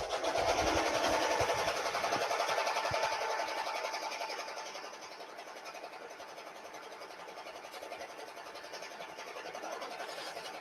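An embroidery machine stitches a placement line on Christmas pajamas, a fast, even mechanical whir with needle chatter that holds steady and fairly quiet, easing slightly louder near the end.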